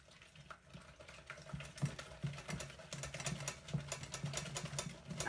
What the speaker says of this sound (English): Let's give that a little bit of a whisk.